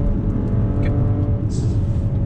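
A powerful Maserati Levante 350 SUV engine roars as it drives past nearby, a deep steady rumble filling the whole moment.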